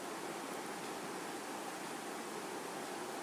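Garlic cloves and dried red chillies sizzle in hot mustard oil, a dense, even hiss that holds steady without pause throughout.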